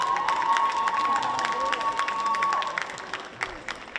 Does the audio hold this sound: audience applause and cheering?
yes